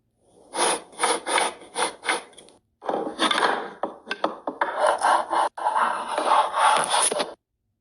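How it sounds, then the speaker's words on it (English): A small yellow toy block slides across a tabletop in a stop-motion sound setup, giving a series of short, close rubbing scrapes in quick bursts, then a longer stretch of uneven dragging and scraping. "I'm just going to make some sounds of it moving across the table"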